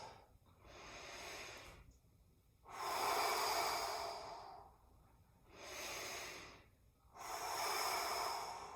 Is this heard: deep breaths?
yes